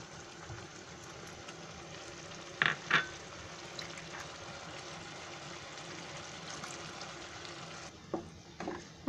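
Chicken Manchurian gravy with a few spoons of Schezwan chutney simmers in a pan, a faint steady sizzle and bubbling with a couple of short clinks of a spoon, quiet and close.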